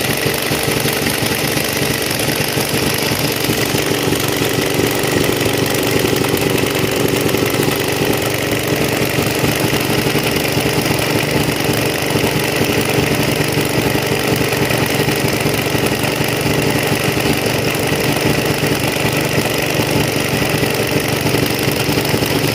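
A Honda GK200 small petrol engine runs steadily with a misfire, giving a continuous rough mechanical drone with a thumping, knocking beat, loud and close with no talk over it.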